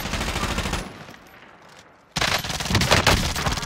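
Automatic gunfire rattles in rapid, loud bursts in the video game Warzone, a dense volley that stops abruptly for over a second of quiet before another heavy, sustained barrage erupts.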